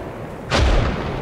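Rockets fired at a plane in the video game Arma Reforger: one loud, sharp blast with a rushing whoosh about midway, fading into a sustained low rumble.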